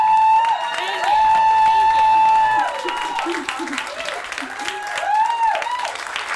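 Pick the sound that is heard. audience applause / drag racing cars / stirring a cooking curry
audience applause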